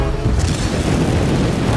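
A loud, dense explosive boom from the Elektra movie fills the whole moment, a sustained roaring blast with heavy low rumble and no talking.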